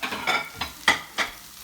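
A tortilla topped with cheese cooks in a hot pan, with a soft sizzle under four quick scraping strokes, close and fairly loud.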